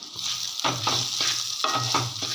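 Mint leaves fry in hot oil with chillies and tamarind for a chutney, giving a close, constant sizzle broken by repeated rhythmic scraping stirs of the pan.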